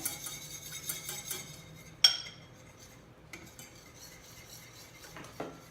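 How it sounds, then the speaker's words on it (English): A whisk works arrowroot powder into a homemade natural deodorant mixture, giving soft scraping and light clinks against a bowl, with one sharp clink and quiet pauses between strokes. "You're going to start whisking that in."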